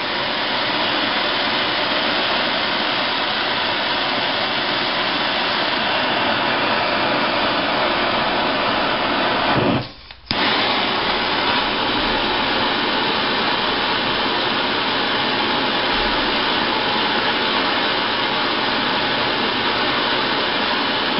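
A torch flame roars steadily while heating a brass screw held in a vise, a loud continuous rushing hiss up close with one brief dropout midway and no talk.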